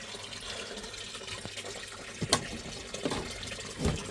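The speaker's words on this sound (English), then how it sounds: "we're just going to get the pump running now" A water pump feeding a gold-prospecting sluice, with water rushing and splashing steadily close by and a few louder splashes and gurgles breaking through the constant flow.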